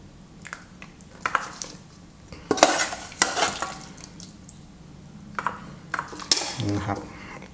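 Beef shank being ladled into a pot of Thai hot and sour soup, with clinks of utensil against metal, scraping, and splashy liquid sounds in uneven bursts, fairly close.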